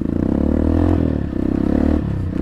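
A Sports 250 dirt motorcycle engine revs loudly and close while being ridden, its pitch rising and falling in two surges.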